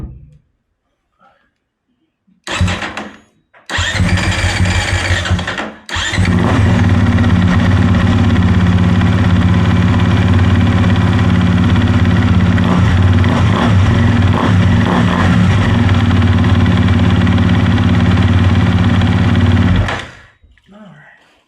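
A 2024 Honda 250RX ATV engine is cranked after an oil change. It catches briefly, then fires up and settles into a loud, steady idle for about fifteen seconds before cutting off, with some talk nearby.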